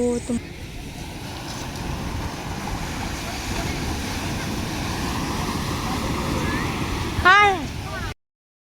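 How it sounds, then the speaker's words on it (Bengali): Rough sea waves crash onto the beach at Digha on a rainy day, making a continuous close roar with wind buffeting the microphone and a short sharp whistle-like sound near the end. "আর এই দেখো সমুদ্রের ঢেউ কিভাবে আছড়ে আছড়ে পড়ছে"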